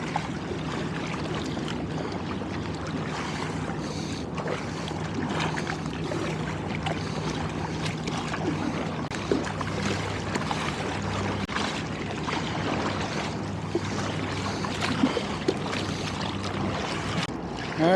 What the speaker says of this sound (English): All right, look at these waves, guys.